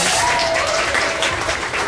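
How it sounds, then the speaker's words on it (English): A tour audience at a studio backlot claps together, a dense crackle of applause that holds for about two seconds without fading. "And pilots, give a big round of applause."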